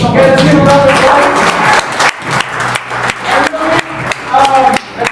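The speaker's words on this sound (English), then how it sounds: "Let's give a round of applause" An audience at a Q&A event claps loudly and close at first, then the applause thins into scattered bursts with voices and cheering mixed in.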